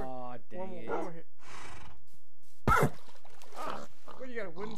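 A Minecraft horse's strained, whinnying hurt cry sounds amid people talking, followed by a sharp hit.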